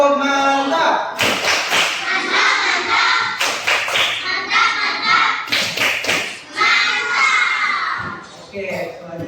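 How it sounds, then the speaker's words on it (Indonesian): A primary school class gives a rhythmic tepuk mantap clap, bursts of loud patterned clapping and table thumps mixed with children's shouting voices in a classroom. "Tepuk mantap untuk dia."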